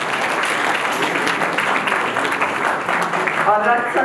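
An audience claps steadily in a hall, a dense continuous patter of many hands with some voices mixed underneath, running the full length without a break.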